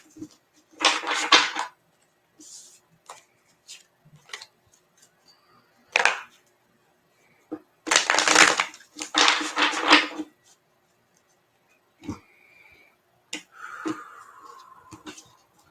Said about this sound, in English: I'm actually going to use a Rider-Waite deck on this one. And just do a couple shuffles.